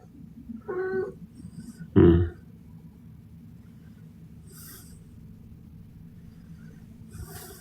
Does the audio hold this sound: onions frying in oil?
no